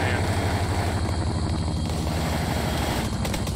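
Helicopter rotor and engine noise in the military shooter game Arma 3, a steady loud chopping drone that continues throughout, with no talk over it.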